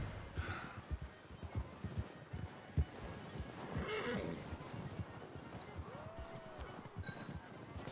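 A horse in Red Dead Redemption 2 gives a clear whinny amid clip-clopping hooves and outdoor game ambience, the neigh rising midway at moderate distance.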